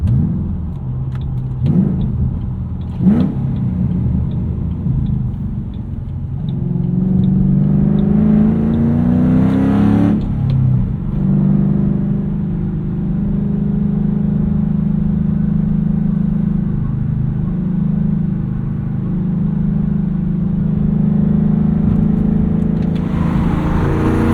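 A 2007 Ford Mustang Shelby GT engine with a loud exhaust revs up and settles into a steady, throaty drone, rising in pitch once before holding a continuous rumble close by.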